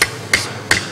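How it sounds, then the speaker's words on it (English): A steel hammer strikes a wooden chair joint three times in quick succession, sharp loud knocks about a third of a second apart, close and alone. "Steel hammer, do you hear it? You can hear when that seats out."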